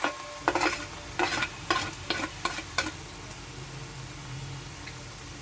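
Onions and ginger frying in a pan, a soft steady sizzle broken by a series of sharp scraping stirs in the first three seconds, then a quieter continuous fry.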